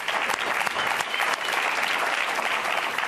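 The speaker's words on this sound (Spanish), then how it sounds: "¡Un aplauso para..." An audience at a Spanish game show claps in steady, dense applause, loud and continuous throughout.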